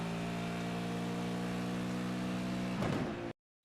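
A V8 race car at Watkins Glen holds a steady droning engine note, then the driver lifts off the accelerator and the tone breaks into a short rough burble before the sound cuts out abruptly.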